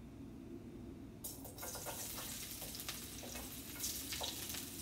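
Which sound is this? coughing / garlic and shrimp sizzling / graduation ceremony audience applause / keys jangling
garlic and shrimp sizzling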